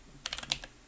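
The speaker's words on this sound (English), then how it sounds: "Oh, can I type with the keyboard?" Quick burst of keystrokes on a computer keyboard during a PC game of Destiny 2, roughly seven close, crisp clicks tapped in an uneven rhythm over about half a second, with no talking.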